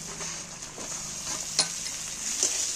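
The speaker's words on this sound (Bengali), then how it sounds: "এইবার টমেটো পিঁয়াজ ভালো করে এগুলোকে একটু ভেজে নেব" Chopped tomatoes and onions with ginger fry in a pan, giving a soft, steady sizzle. Occasional spatula scrapes and light knocks come through, and a small clatter rises midway.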